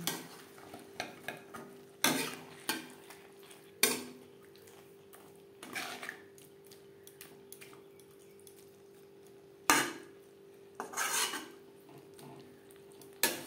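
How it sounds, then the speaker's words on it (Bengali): Green peas being stir-fried with spices and broccoli in a pan for a vegetarian dish, heard as sparse, close scrapes and clatters of a spoon against the pan with quieter stirring in between and no talk. "দু 3 মিনিট এইভাবে একটু মশলার সাথে মটরশুঁটিও কষিয়ে নেব"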